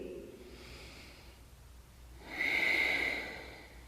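A person breathes deeply during a yoga twist, with a slow inhale and a stronger, louder exhale through the nose partway through, close and alone.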